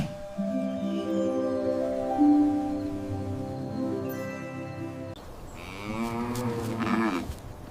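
A cow lets out long, loud, drawn-out moos, one after another, close by with no talking.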